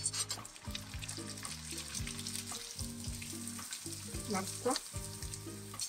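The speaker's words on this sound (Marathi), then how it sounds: "आता आपण एक एक पापड सोडून तळून घेऊयात." Potato papad slipped one by one into hot oil, sizzling and bubbling steadily with bursts of frying crackle, close and fairly loud, with a brief word spoken over it.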